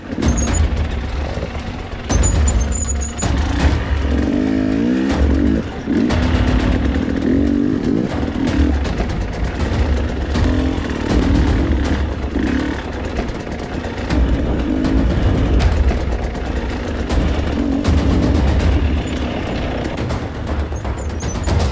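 Enduro motorcycle engines rev and drone continuously while climbing rocky terrain in Turkey in winter, rising and falling in pitch with bursts of throttle, loud and close throughout.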